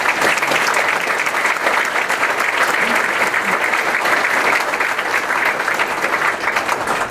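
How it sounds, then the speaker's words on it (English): A large audience at a US Army Corps of Engineers Southwestern Division change of command ceremony claps loudly and steadily, a dense unbroken roar of applause from start to finish. "Let's give Chris a big round of applause, okay?"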